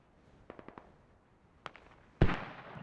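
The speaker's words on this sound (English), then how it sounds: "Enemy mortars roughly on 3 observe." Mortar explosions in the video game Squad, with a quick string of distant pops followed by a louder, deeper blast that rumbles and fades out.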